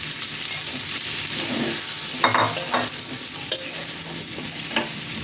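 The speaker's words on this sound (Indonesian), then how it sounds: "Mami tumis, masukin tempenya yang digoreng tadi" Fried tempeh tossed with red bird's-eye chilies in a hot pan, a steady close sizzle under repeated scraping and stirring strokes, with a few sharper clanks of the spatula near the middle and end.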